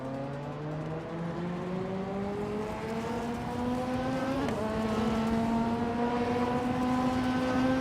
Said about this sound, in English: Turbo Benzina is driving a Ferrari F50 GT. A rare and powerful machine.